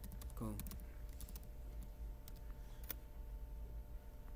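Quick, light keystrokes on a computer keyboard, an irregular patter of close clicks with a brief burst early on, while a voice murmurs faintly in the background.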